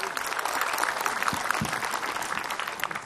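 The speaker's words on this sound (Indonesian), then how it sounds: "tepuk tangan buat Kak Widya." Studio audience at an Indonesian Ramadan religious TV show applauds for a guest speaker, a steady, moderately loud patter of many hands, with a couple of low thumps partway through.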